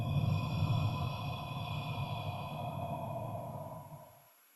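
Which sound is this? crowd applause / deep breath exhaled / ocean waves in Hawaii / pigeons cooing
deep breath exhaled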